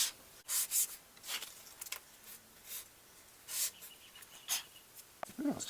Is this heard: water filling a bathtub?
no